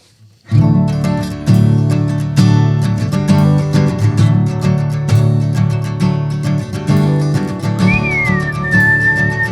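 Loud guitar strumming fills the clip, with a thin whistle slipping in near the end.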